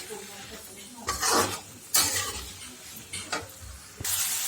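Tomatoes being stirred as they cook in a pan for an Indian dish, with a spoon clinking and scraping in several bursts over a faint, steady sizzle.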